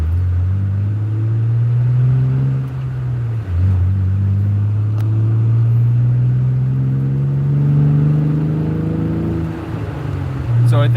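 Engine of a 2015 Jeep Wrangler JK rumbling steadily at low pitch, swelling slightly as it accelerates through city driving, close and continuous with a brief dip partway through.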